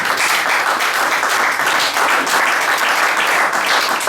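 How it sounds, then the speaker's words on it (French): Loud, close applause from a church congregation during a pastor's teaching, a full continuous burst of clapping hands with no speech over it. "Applaudissons pour ce frère."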